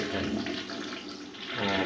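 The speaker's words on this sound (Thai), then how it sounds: "ชักโครกรุ่นนี้มันจะทำงานสามรอบ ก็คือรอบที่หนึ่ง วนขอบโถ" An electric toilet runs its flush cycle: steady rushing, swirling water fills the whole stretch without a break and swells louder near the end, close to the listener with no talk over it.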